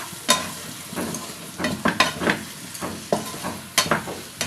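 Boiled potatoes and fish eggs stir-fried in a spicy masala: a close, lively sizzle broken by repeated scraping strokes of a spatula, each push bringing a brief louder rasp, with no voices.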